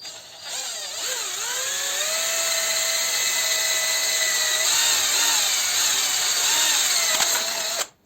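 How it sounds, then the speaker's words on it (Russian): A power tool boring a hole in the top of a plastic box for a wire, a loud steady whine that starts abruptly, runs for about seven seconds with slight pitch shifts, then cuts off. "Дальше в верхней части коробки делаем отверстие под провод."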